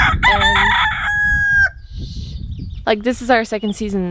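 A loud rooster crows close by on a permaculture farm in spring, one long rising call, followed by a person talking.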